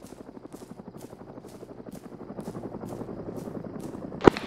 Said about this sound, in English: I can see the helicopter approaching us now.